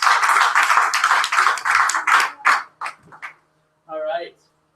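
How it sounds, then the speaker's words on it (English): An audience at an open mic poetry reading applauds, loud and dense at first, then thinning to a few scattered claps before dying out, with a short voice heard afterward. "Let's give another round of applause to my Bridget."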